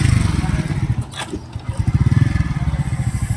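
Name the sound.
motorcycle engine during riding practice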